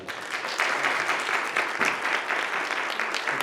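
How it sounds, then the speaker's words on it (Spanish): A church congregation gives a strong round of applause to welcome visiting brothers during a morning service, many hands clapping in a thick, sustained wash that stays even and full throughout, with no voices over it. "recibamos los hermanos con un fuerte aplauso"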